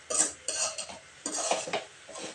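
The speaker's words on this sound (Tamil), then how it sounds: "நல்லா கிளறி விடணுங்க" A spoon scraping and clinking against a pan while stirring egg pepper fry with onion, in several short uneven strokes, close and clear with no talking.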